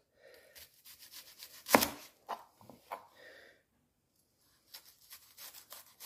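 Vegetables, onions among them, chopped with a knife on a board for a peri peri chicken salad: a run of close, crisp knife strikes, one especially loud, then a pause before another quick burst of cuts.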